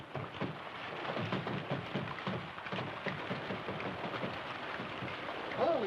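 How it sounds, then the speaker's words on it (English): Steady rain falls in a dense, even hiss that fills the whole stretch at moderate level, with no voices heard. "Holy smokes, it's raining."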